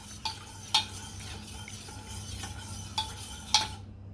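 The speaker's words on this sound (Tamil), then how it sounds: "இன்னும் கொஞ்சம் கலக்கணும், கன்சிஸ்டண்ட்டாக கலக்கணும்" A utensil scrapes and clinks around a bowl of appam batter in irregular strokes, with a steady low hum behind it.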